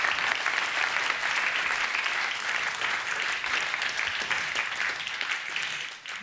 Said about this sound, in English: I urge you now to give her a very warm round of applause